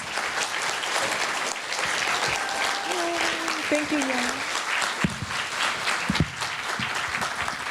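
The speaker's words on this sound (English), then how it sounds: "round of applause." Sustained audience applause at a poetry reading and conversation event fills the room, with a voice speaking briefly over the clapping near the end.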